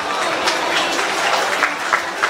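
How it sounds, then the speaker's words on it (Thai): Brief audience applause at a university arts and culture opening ceremony in Ubon Ratchathani, Thailand, a short spell of scattered clapping at moderate loudness. "ขอเสียงปรบมือด้วยครับ"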